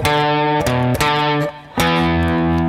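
A distorted electric guitar plays a riff, loud and close, with chopped repeated notes and a short gap before the phrase restarts, with no voices.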